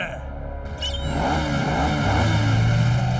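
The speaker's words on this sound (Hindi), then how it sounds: "मेरी ये सुपर बाइक ही काफी है, जो ऑटो मोड में चलते हुए अटैक करती है" A cartoon super bike engine revs and roars steadily in auto mode, growing louder and rising in pitch after a sharp whoosh, loud and close.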